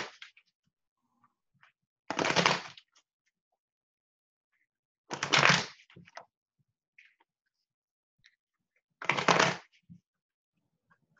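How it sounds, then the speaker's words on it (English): Three separate bursts of tarot cards being shuffled, each a quick riffling rush about half a second long, spaced by quiet pauses with faint small rustles. "So I'm going to shuffle the cards and then you just tell me when to stop."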